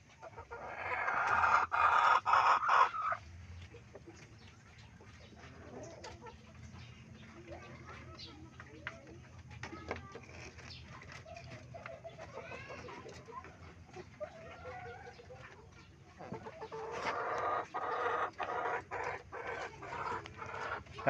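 Hens sit on eggs while chickens cluck in a farm setting, with scattered clucks and calls throughout under ongoing talk, louder bursts at the start and near the end.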